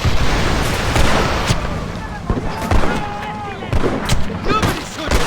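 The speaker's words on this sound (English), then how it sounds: "They're shooting down on us!" Gunfire in the video game Red Dead Redemption on PC during a cliffside shootout, with rapid overlapping shots and booming blasts over dense combat noise.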